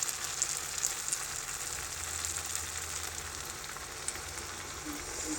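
A spice paste for a rui fish curry sizzles steadily in a pan, giving a constant dense frying hiss with faint bubbling and no talk.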